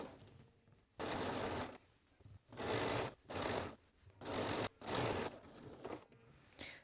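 A sewing machine stitches close to a shirred dress panel in several bursts of steady whirring, each separated by short pauses, heard near and clear with no talking.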